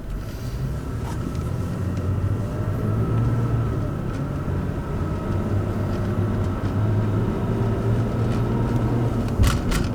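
A Toyota Tacoma pickup towing a trailer accelerates to 25 mph on neighborhood streets, giving a steady low engine and road rumble heard from inside the cab, with no talking.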